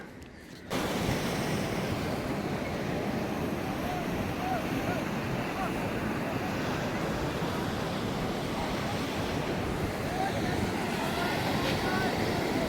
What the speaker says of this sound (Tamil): அலையா பாருங்க கடலில் எப்படி அடிக்குதாண்டு